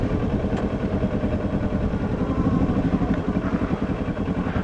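A motorcycle engine thrums steadily and close as the rider slows down, a low continuous pulsing rumble with no clear revving.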